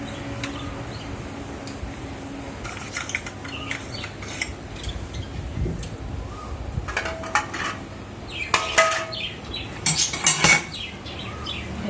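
Brass pooja lamps and vessels clatter as they are put into a container one by one, scattered metallic clinks and knocks that grow busier toward the end over a soft background.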